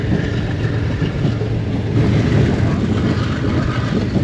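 Diesel locomotive GU40 9025 hauling the Green Line train from Bahawalpur to Lahore, heard as a steady, loud, low rumble of engine and rolling wagons throughout, with no voices.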